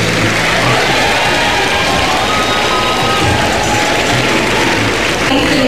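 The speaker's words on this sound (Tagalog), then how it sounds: "masigabong palakpakan at hiyawan ang narinig nang i-anunsyo ang pangalan ni Poe" Crowd at a political proclamation at the PICC breaks into loud, sustained applause and cheering, a dense roar that fills the whole stretch without letting up.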